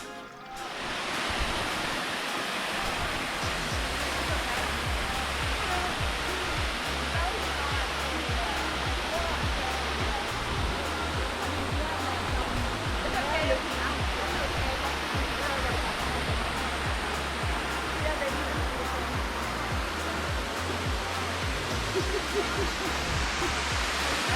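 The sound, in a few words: David Waterfall rushing water, Ein Gedi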